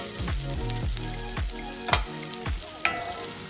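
Onions fry in a skillet until translucent for a homemade Philly cheesesteak. Close, continuous sizzling runs under a series of spatula scrapes and stirring knocks, with a couple of sharper clinks.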